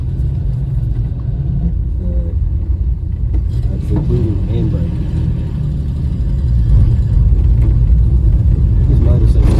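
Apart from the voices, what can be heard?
VK Dodge ute with Valiant Pacer engine running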